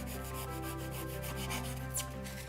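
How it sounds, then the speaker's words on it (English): Polystyrene is sanded into a rounded shape with a steady, continuous rubbing rasp in quick back-and-forth strokes, close and even, with no voices. "You can see now that just by sanding it, it's rounding all the edges off."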